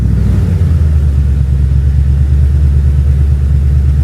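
A car engine idles after a push-button start, a loud, steady low rumble with no artificial V8 sound piped in and no voices.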